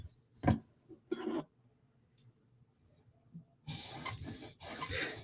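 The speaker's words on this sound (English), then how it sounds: "as you can see here with good stones, it's really not that hard to sharpen" K390 tool steel Spyderco knife blade drawn across sharpening stones in short rasping strokes: two brief scrapes early, a quiet gap, then longer sustained grinding passes near the end, close and moderately loud.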